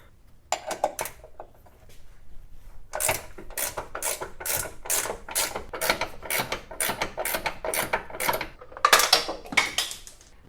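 Ratchet wrench turning bolts on a 2006-10 Dodge Charger R/T's suspension control arms, a long run of crisp, evenly spaced clicks after a few scattered opening ones, close up with no talking.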